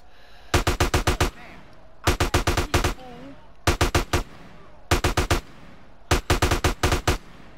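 Gunfire in GTA San Andreas Remastered arrives as five loud, evenly spaced rapid bursts of about five shots each, with short quiet gaps between them.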